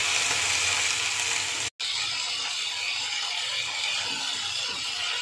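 Tomatoes go into a pan of frying okra bhujia, a close, continuous hiss and sizzle of hot oil with soft stirring scrapes, steady apart from one momentary break.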